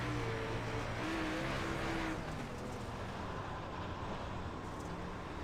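Super Late Model race car engine at Williams Grove in iRacing, a steady continuous drone with shifting harmonic whine as the throttle varies on a slick dirt track, loud and close throughout with no voices.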